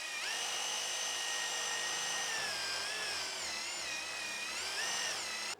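An electric rotary brush scrubs old glue off a ceiling before plastering, giving a steady, whining motor hum with a gritty scraping texture underneath, held for several seconds without talk.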